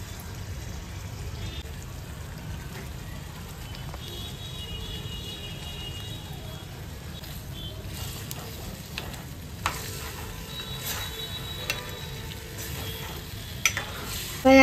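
Bombil fish simmer in a curry of ground masala, oil and tamarind pulp, with a quiet, steady bubbling and soft stirring clinks, plus a few small taps and clatters.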